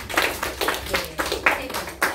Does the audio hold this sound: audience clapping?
yes